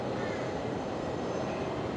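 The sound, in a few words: Fokker 100 airliner at Brisbane Airport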